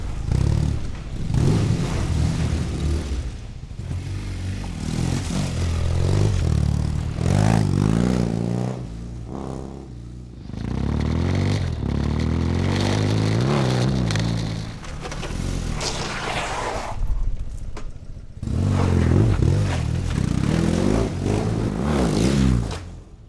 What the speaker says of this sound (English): Probably the thing I love the most on my bike, it's the soundtrack. Like it's backfiring when you downshift